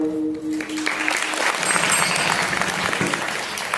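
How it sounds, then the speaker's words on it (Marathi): An audience at a devotional kirtan gathering claps together, a dense burst of loud applause that builds after a brief tonal sound at the start and continues steadily to the end. "टाळी वाजवत असताना अशी मोकळी वाजवायची खणखण वाजवायची टाळी असा आवाज आला पाहिजे"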